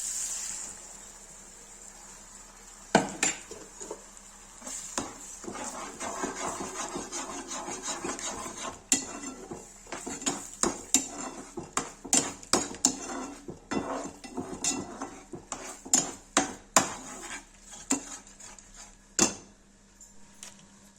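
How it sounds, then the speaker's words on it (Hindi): Eggs cooking with chicken masala for a dhaba-style Mumbai egg bhujiya, stirred in a pan: repeated close scraping and clinking of a metal utensil against the pan over a steady sizzle, with no talk. "अब इसमें एग डाल देंगे"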